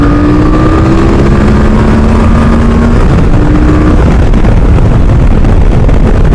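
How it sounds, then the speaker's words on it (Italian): A QJ Motor SRT 800 motorcycle engine drones loudly nearby, its pitch stepping down as it engine-brakes on downshifts, with steady wind-like rumble underneath. "Buonissimo il freno motore in scalata."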